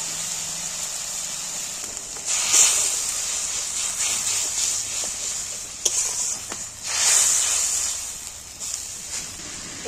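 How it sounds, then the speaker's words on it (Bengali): Water poured over hot fried spice masala in a pan for okra curry, a steady hiss of sizzling with a couple of louder bursts, close and fairly loud, no talking. "দেখো এবার আমি পরিমাণ মতন একটু সামান্য জল দিয়ে দিচ্ছি।"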